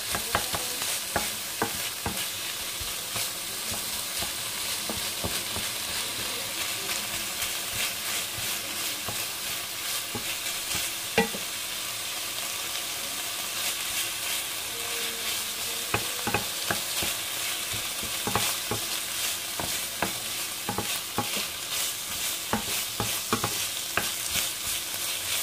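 Chicken filling for buns cooking in a pan, a constant close sizzle broken by repeated sharp scrapes and clatters of stirring, irregular and lively, with no talk.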